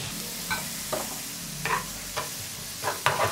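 Onions sautéing in sesame oil for pepper chicken give a soft steady sizzle, punctuated by about six spaced spoon scrapes in the pan, near and moderately quiet, with no one speaking.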